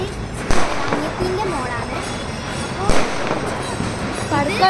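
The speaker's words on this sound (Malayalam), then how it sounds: "പടക്കമെല്ലാം പൊട്ടുന്നുണ്ട് ഗായ്സ്." Firecrackers pop outdoors near a temple during Ganesh Chaturthi, with two sharper bursts rising out of a busy crackling background, while people talk throughout.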